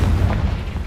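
A Confringo blasting spell explodes in Hogwarts Legacy, a short, loud, low boom that fills the whole moment without any speech.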